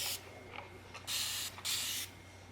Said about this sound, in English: which I'm just going to spray just a little bit.